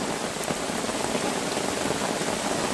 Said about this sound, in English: It's raining hard, y'all.